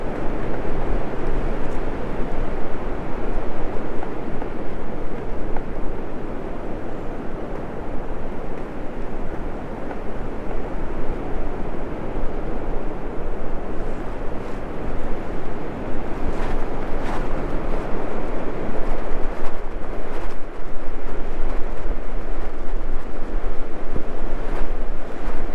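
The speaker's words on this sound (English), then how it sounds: "Listen to that wind." Strong constant wind buffeting the microphone on Peters Mountain along the Appalachian Trail in Pennsylvania, a loud unbroken roar with heavy low rumble lasting the whole stretch, no talking.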